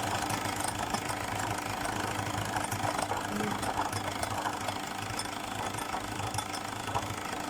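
Electric hand mixer on low speed whipping chantilly cream with cold milk for Ramadan kunafa cups, a steady continuous motor whir with a rattling, knocking texture, close and even throughout.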